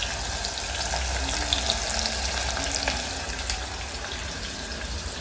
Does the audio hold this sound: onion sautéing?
yes